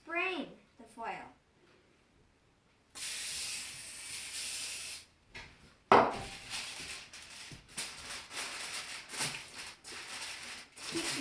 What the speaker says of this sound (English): American Test Kitchen suggests spraying the foil.